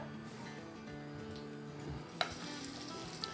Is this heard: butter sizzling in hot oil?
yes